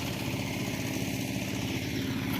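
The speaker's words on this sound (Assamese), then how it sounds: "2খন ট্ৰেক্টৰ লাগি আছে।" Two tractors run in a farm field, their engines chugging with a steady low pulsing throb, close and continuous throughout, no talking.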